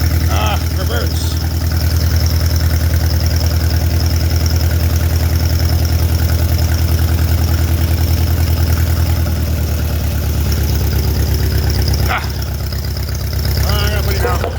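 An old Allis tractor engine runs at a steady idle, a loud, close, continuous low rumble that dips briefly near the end before picking back up.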